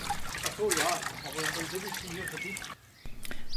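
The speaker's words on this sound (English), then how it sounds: "Before the next step, the leather has to be washed." Water trickles and splashes unevenly as brain-tanned leather is washed, with a person talking over the flow before it briefly drops quiet near the end.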